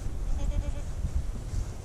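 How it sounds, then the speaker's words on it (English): Goats on a small farm bleat a few times at mid distance, their wavering calls carried over a field with steady outdoor background noise. "Here are the 4 goats."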